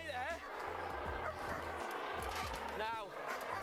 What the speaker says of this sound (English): I've got a dog on top of you as well.